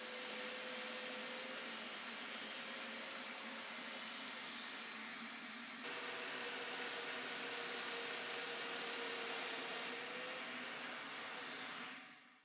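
A Festool Domino joiner cutting loose tenon mortises in wooden table parts, a continuous loud high-pitched motor whine with a steady cutter drone, a brief dip mid-way and steady running until it spins down at the end.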